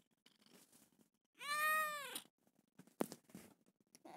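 A pet cat gives one clear, drawn-out meow up close, surrounded by faint rustling and small handling noises in an otherwise quiet indoor space.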